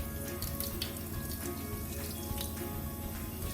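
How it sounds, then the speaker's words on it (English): Salted items rinsed under a running kitchen tap, a steady, faint splashing water stream with scattered drips throughout and no voices. "And then we'll just rinse them if you have to."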